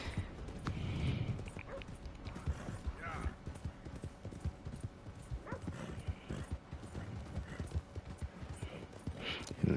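A slow-walking horse in Red Dead Redemption 2 plods along with steady, unhurried hoof clops and an occasional snort, while a person talks over the hoofbeats.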